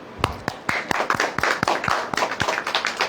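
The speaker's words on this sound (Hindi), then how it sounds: "ताली बजाओ।" People clap their hands in a religious gathering, a run of distinct, fairly close claps in an uneven rhythm, some sharp single strikes and others overlapping, with no talk.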